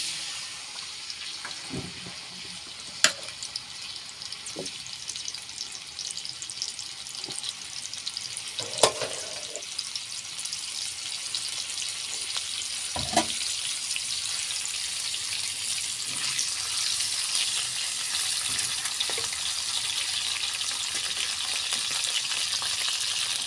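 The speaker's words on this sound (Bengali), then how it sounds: "আলুটা ভাজা ভাজা করে নিই।" Potatoes for a stuffed pointed gourd dish fry in a pan with a steady, bright sizzle throughout, broken by a few sharp clinks and scrapes of stirring close by.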